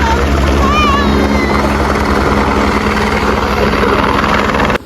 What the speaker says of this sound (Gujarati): એક મિનિટ એક હેલિકોપ્ટર આવે